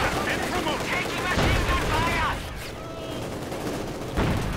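Machine gun fire and explosions from a Company of Heroes 2 battle, as conscripts push against a Panzer IV; dense, continuous bursts of gunfire with loud impacts, mixed with the game's wider combat noise.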